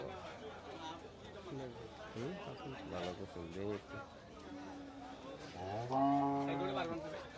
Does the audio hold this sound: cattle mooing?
yes